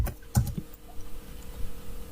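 A grep command typed on a computer keyboard: a short, quiet burst of a few quick key clicks near the start, followed by faint room hush.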